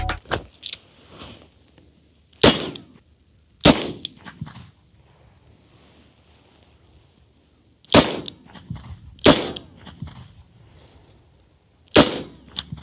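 A Smith & Wesson Model 442 Airweight .38 Special revolver fires several sharp, loud single shots at irregular intervals, some in quick pairs, with quiet gaps between them and no talking.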